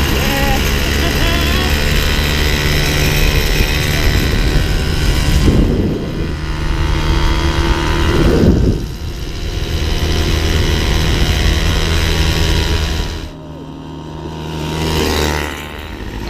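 A 1985 Motobécane 51 V moped with an AV10 engine, its exhaust droning loud and close at a steady high rev, dipping briefly twice before a sharp drop and a final rise near the end.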